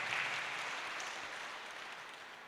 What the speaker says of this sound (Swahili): Tupigie Yesu makofi tafadhali.